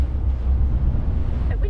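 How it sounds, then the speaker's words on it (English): Wind buffets a boat moored at an air show, a steady, loud, low rumbling roar that fills the whole stretch without letting up. "It's windy actually"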